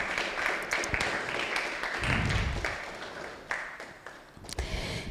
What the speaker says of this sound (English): Ladies and gentlemen, a round of applause for her.